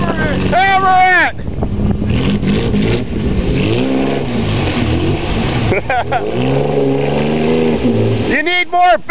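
A Ford Ranger truck engine revs hard and repeatedly while stuck in deep mud, roaring up and down, while people shout and talk excitedly close by.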